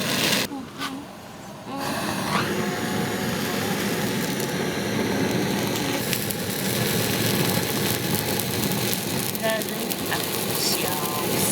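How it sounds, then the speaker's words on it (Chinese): Skin of cured pork belly being burned over a flame, a steady roaring hiss with faint crackling that runs continuously and stays fairly loud from start to finish. "现在要把皮烧一下，不烧吃不动的啊"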